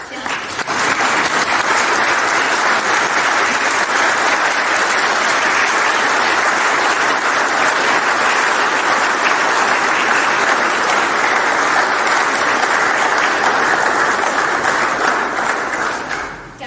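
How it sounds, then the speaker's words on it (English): Sustained, loud applause from a large standing crowd at a funeral in Birmingham, UK, steady and dense clapping throughout with no break. "Can we all stand and applaud my dad, bowing Safri for the last time?"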